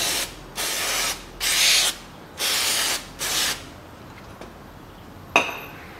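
Silicone lubricant sprayed from an aerosol can onto the thread of a fuel pump nut on a 2009 Ford Focus II 1.6, in five short close hissing bursts, followed by quiet handling and a sharp clink.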